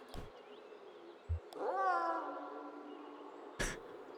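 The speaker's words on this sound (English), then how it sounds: "Meowing into the hole." A cat in the video game Kentucky Route Zero meows into a hole: one drawn-out, wavering meow in the middle, framed by a few soft clicks and thumps in otherwise quiet surroundings.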